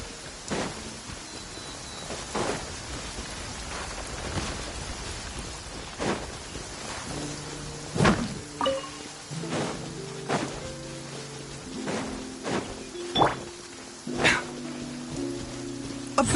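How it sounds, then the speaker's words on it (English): Rain falling in the video game Genshin Impact, a steady hiss of rainfall with scattered sharp clicks and taps, joined later by low humming tones of game music. "I always get so gloomy when it rains."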